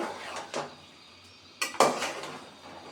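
Beef with spices being mixed in a cooking pot, with a few scattered metal-on-metal clinks and scrapes of a utensil against the pot, the loudest clatter near the end and quiet moments between.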